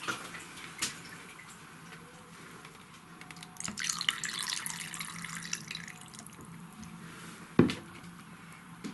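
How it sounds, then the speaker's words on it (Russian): Water poured into a clear container holding orchid roots, faint trickling and drips with a couple of sharp splashes and clinks, close and quiet, no speech. "Воду наливаю чуть ниже основания зеленой части."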